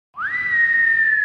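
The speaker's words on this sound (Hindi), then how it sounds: "इतने खतरनाक खर्राटे ले रहा है यो" A sustained whistle rising quickly and holding a steady high tone, a comic snoring sound effect with a whistling exhale, heard alone for about a second.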